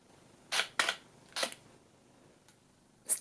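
A Nikon D810 shutter set to manual focus fires in crisp, close clicks: two quick releases, a third a moment later, a faint tick, then one more sharp snap at the end, with near silence between.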